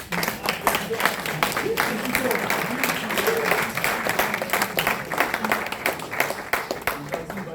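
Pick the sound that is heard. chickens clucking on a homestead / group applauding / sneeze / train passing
group applauding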